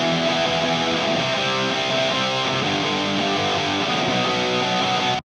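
Punk rock guitar run through an amplifier plugin in Logic, with the microphone pulled back and the EQ reshaped: a dense, distorted, sustained chordal roar, loud and steady alone for about five seconds before cutting off abruptly.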